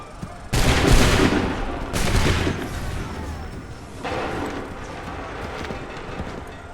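A musket volley in Assassin's Creed III, three loud crackling fusillades of massed shots at intervals, each trailing off in rumbling echo, the later ones somewhat fainter.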